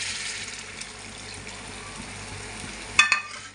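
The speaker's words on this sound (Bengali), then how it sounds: "এই যে আমি এখন একটু অল্প করে জল দিয়ে দেব।" Bhola fish curry simmers in a pan with a soft, steady sizzle before a small splash of water is poured in near the end, bringing a brief burst of bubbling and hissing.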